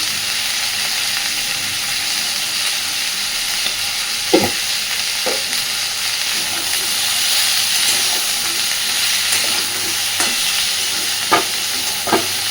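Cauliflower and potato, seasoned with turmeric and salt, sizzle loudly in a pan as they are stirred and fried, a continuous close hiss broken by several distinct scraping knocks of the spoon, no talking.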